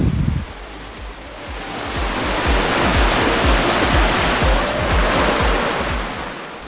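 A clear river rushes steadily nearby at a riverside campsite at Legok Gintung, a loud continuous wash of flowing water with low burbling underneath and no voices.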